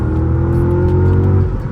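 A supercharged Mercedes-Benz CLS 55 AMG, 476 hp, revving hard at full throttle, a loud close roar holding a steady high pitch that climbs slightly before easing off, with no voices.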